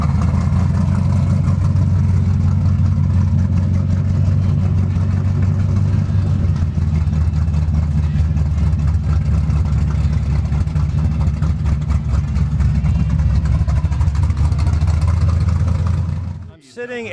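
A 1956 Chevrolet Bel Air at a classic car show runs with a loud, steady low rumble that stays constant for a long stretch, then drops away abruptly near the end.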